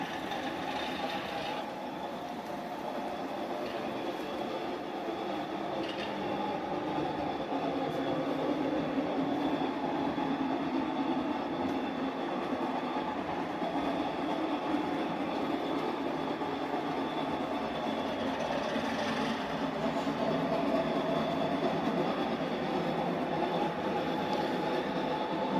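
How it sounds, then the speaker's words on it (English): Model train locomotive with a programmed Baldwin diesel prime mover sound, giving a steady, continuous engine drone and rumble at constant level throughout. "I like the Baldwin prime mover sound that I got programmed in there"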